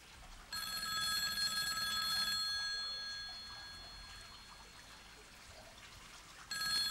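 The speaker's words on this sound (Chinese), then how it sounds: "藤井啊，我不是不接你电话，是你还不够着急。" A telephone rings with a bright, rapid bell trill that starts abruptly, carries on for a couple of seconds, fades, then breaks in again at the end, all over a quiet indoor room.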